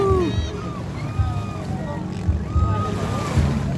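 A racing boat's engine on open water, with wind and waves around it, sputters and catches unevenly in irregular bursts, while voices shout and talk excitedly over it.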